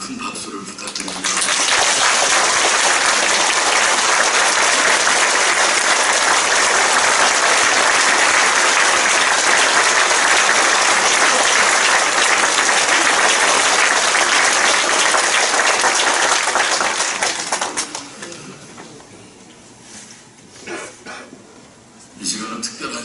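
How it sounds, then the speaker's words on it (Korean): Loud, sustained applause from a church congregation at a pastor's installation thanksgiving service, swelling quickly and holding steady for about fifteen seconds before fading into scattered claps and room noise. "여러분 큰 박수를 부탁드립니다."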